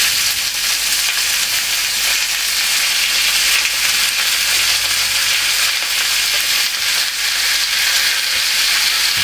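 Minced meat frying in a hot pan for an Estonian mashed-potato-and-mince dish, a loud, steady crackling sizzle that runs unbroken throughout with no voices.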